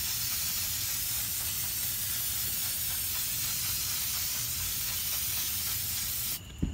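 Aerosol spray coating a tumbler decorated with alcohol inks and waterslide paper: one long, steady, close hiss that runs almost unbroken, then cuts off abruptly near the end with a small clunk.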